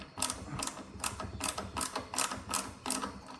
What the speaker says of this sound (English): Now we're going to loosen this screw so we can swing this black shutter